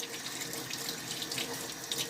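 Steady stream of tap water running into a sink during a test of a charcoal soap's lather, a continuous hiss-like splash with no talking.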